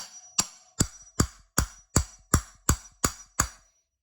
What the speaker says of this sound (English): take a hammer and drive this in until it seats